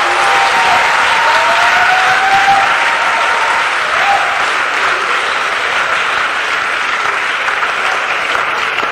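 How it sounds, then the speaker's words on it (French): A church congregation applauds for Jesus Christ, a sustained, loud wash of clapping lasting several seconds, with faint voices mixed into the crowd. "Acclamez pour Jésus-Christ."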